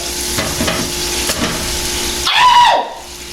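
Backstrap meat frying in a pan with alcohol, a steady loud sizzle throughout with a stirring scrape and a brief rising hiss near the end.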